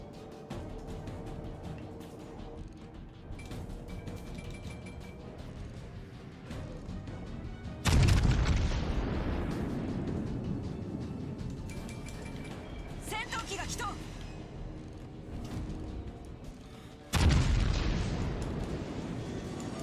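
Naval ship guns boom in a warship video game, two heavy blasts with long rumbling decays and shell impacts, set against constant engine and ocean ambience while people talk.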